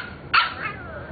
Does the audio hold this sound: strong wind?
no